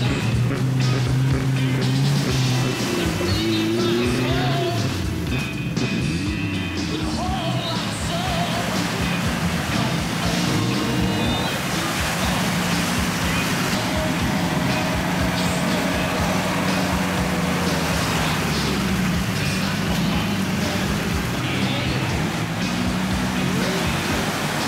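Off-road vehicles, including a Jeep Cherokee, a Suzuki Jimny and Trollers, drive a rough Jeep club trail in Ivaí, Paraná: a loud, steady engine roar with rumbling and rattling runs unbroken throughout, without talk.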